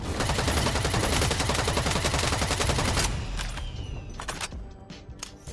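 Rapid gunfire from the sci-fi shooter EVE Vanguard rattles nonstop for about three seconds, loud and dense, then breaks into a few scattered, sharper shots that trail off.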